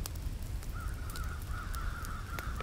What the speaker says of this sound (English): Can you hear the crows or the ravens?